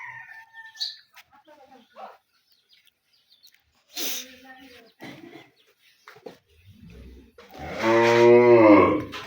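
A four-tooth-age dairy cow with calves on a farm lets out one loud, drawn-out moo near the end, after scattered talking and quieter sounds.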